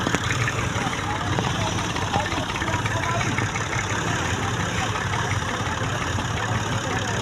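A tractor engine idles with a continuous low rumble while the tractor backs up, and voices are heard over the engine noise.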